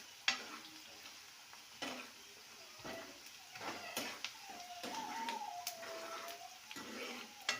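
Onions frying in oil in a pan for South Indian lemon rice, with a steady soft sizzle, intermittent stirring scrapes and utensil knocks close by, no talking.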